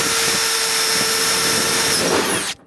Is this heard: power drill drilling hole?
yes